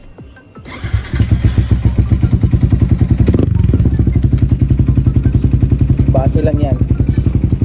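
A Malaysian Sniper 155 motorcycle engine starts up and settles into a fast, steady idle with a thumping, rhythmic exhaust pulse, loud and close, while someone speaks briefly over it.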